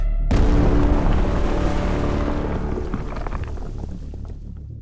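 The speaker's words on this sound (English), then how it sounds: "They barely had time to register it before everything exploded." A sudden, deep explosion in a narrated horror story about a nuclear exchange hits with a heavy boom, then a long rumbling roar that slowly fades with debris crackle and no voices.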